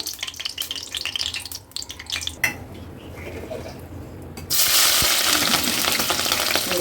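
Oil and onions frying in a pan for goat head curry, with clattering utensils and stirring at first, then a loud, steady sizzle that swells near the end.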